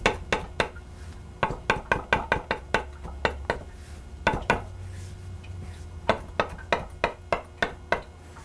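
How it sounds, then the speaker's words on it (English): Fresh rosemary needles are chopped with a knife on a board, giving quick sharp knocks in irregular bursts and pauses, close and clear. "And I want to just chop this up."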